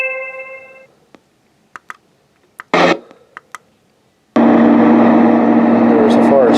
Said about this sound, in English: These are the fan sounds.